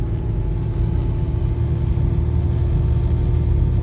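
A 1991 Ford truck cruising in second gear, its engine giving a steady low rumble and drone under constant road noise throughout, with no voices.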